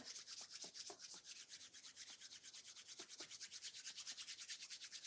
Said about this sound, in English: And so we're just going to rub and create friction.